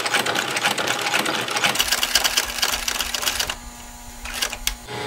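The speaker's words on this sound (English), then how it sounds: "The needle then sews up through the hole from below, catches the thread in its hook, takes it down and locks the stitch." A heavy-duty sewing machine stitching a leather holster runs in a fast, loud mechanical chatter, then slows into a few spaced clunks near the end, with no talking.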